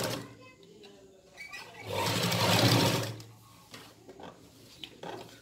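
A sewing machine stitching a seam on ladies' palazzo pants with an elastic waistband, its motor whirring in a steady close run that swells loudest midway before easing back.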